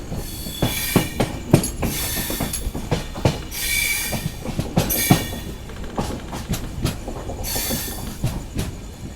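The Panchaganga Express rolls along the rails with rhythmic clacking wheels and occasional high metallic squeals, loud and close, as it slows into Honnavar station.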